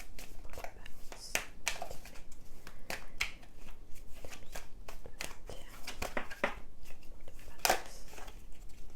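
Oracle cards are shuffled and handled close up in a series of crisp riffling, slapping and flicking sounds, with a quiet voice speaking intermittently over them.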